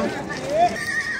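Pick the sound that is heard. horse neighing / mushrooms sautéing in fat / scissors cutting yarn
horse neighing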